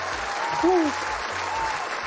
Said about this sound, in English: I think this also was worth a round of applause.